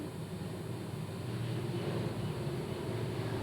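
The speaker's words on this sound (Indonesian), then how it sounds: "kalau ada suara gemuruh itu suara pesawat lewat." An airplane passing overhead gives a steady, broad rumble that holds at an even, moderate loudness throughout, with no voices.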